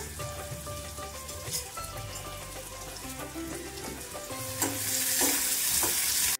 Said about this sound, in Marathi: मटकी मंद आचेवर शिजून घ्यायची आहे आपल्याला।